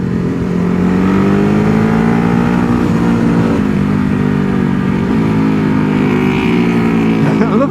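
Ducati Hypermotard 950 SP motorcycle engine roars loud and close, rising and falling in pitch through gear changes under hard acceleration, steady and continuous with no pauses.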